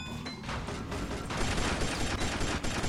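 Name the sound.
long range shots fired in Burnin' Rubber 5 video game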